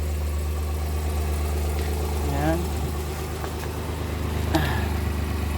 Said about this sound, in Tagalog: So start na yung ating makina.